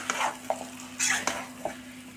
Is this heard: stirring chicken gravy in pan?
yes